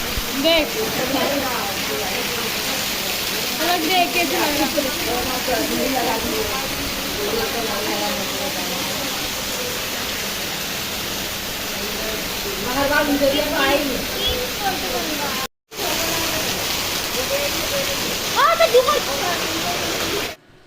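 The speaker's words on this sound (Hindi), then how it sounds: "उसके बाद देखिए कितनी ज़्यादा तेज़ बारिश हो चुकी थी" Steady heavy rainfall hisses broadly throughout, with occasional voices talking beneath the downpour and a brief dropout near the end.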